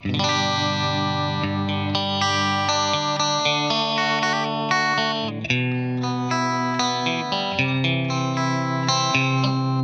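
Clean electric guitar chords and melodic notes ring out with lush reverb and a shimmering chorus-like effect through a Twin Reverb clean amp preset in Fender Studio Pro 8, steady and fairly loud, no voices.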